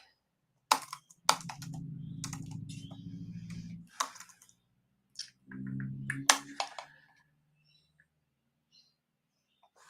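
Someone typing a name on a computer keyboard, two quick bursts of close key clatter separated by a short pause, with near silence around them.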